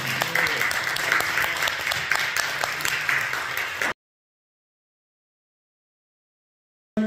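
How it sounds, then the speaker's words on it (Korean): Audience applause at a formal ceremony, dense steady clapping for about four seconds that cuts off abruptly into silence before a brief return at the very end. "자, 박수로 받아주십니다."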